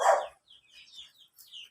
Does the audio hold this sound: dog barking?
yes